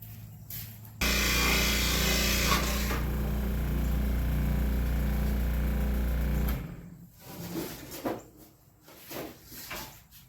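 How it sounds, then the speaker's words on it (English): A jigsaw cuts a piece of wood in one continuous buzzing run of about six seconds, loud and close, then stops, followed by scattered clunks and handling noises. "Let's see if I can cut this out. I need to use the jigsaw on this."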